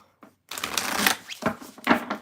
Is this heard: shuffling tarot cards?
yes